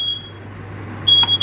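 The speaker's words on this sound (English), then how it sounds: "You walked into the kitchen, literally, and the smoke alarm went off." A kitchen smoke alarm emits a high, shrill continuous tone that stops and then resumes, fairly loud against a low background hum, with no talking.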